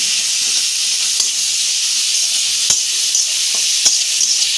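A paste of ginger, garlic, dried chili and cumin fries in a pan with onion, giving a bright continuous hiss and sizzle with occasional sharp clicks of stirring, close and fairly loud.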